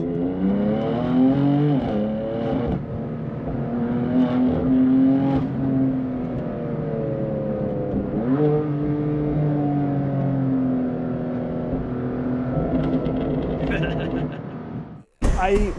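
A BMW M4 GTS engine revs and accelerates loudly through several rising gear pulls, each climbing pitch broken by short shift dips, while someone talks over the engine noise throughout before it cuts out abruptly near the end.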